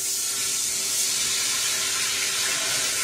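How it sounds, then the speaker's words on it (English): Water is poured into a bowl of flour and soup mix while making gravy for hamburger steak, giving a steady, even hiss that lasts about three seconds with no talking. "Now let's add 2 cups of water."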